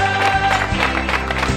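A crowd applauds children's sports champions at a local sports event. Dense, steady clapping fills the short stretch, with a few voices mixed in under it.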